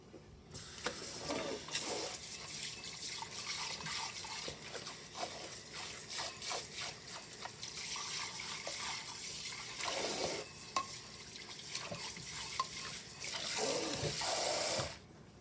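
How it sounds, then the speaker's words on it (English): Steady running warm water splashes continuously, with occasional clinks and rattles of dishes being rinsed of soap under a tap in a sink, fairly close. "rinse each dish with clean, warm water to make sure you get all of the soap off"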